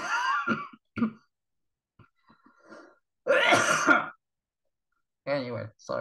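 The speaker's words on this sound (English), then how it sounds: "sorry about the coughing" Coughing and throat clearing come in several short, harsh bursts, loud and close, separated by pauses, with a longer rough fit near the middle.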